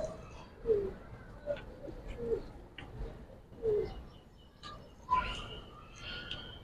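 Silver pigeons give soft, throaty coos at irregular intervals, fairly quiet and close, against a faint background.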